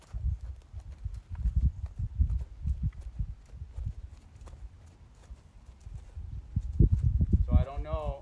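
A horse is walked off during flag desensitising training, its hooves making a steady, close clip-clop on firm ground; a voice briefly sounds near the end.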